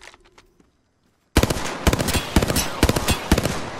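After a brief near-silent pause, video game automatic gunfire bursts in loudly, a sharp rattling stream of rapid shots continuing to the end.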